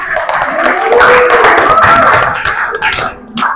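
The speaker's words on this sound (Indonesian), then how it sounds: "Ya, tepuk tangan." Students in a sixth-grade classroom clap their hands together in a short burst of dense, overlapping claps, with voices and laughter mixed in before the sound thins out near the end.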